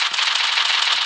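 Rapid continuous gunfire from a mobile shooting video game, a dense unbroken automatic burst, loud and close with no voices over it.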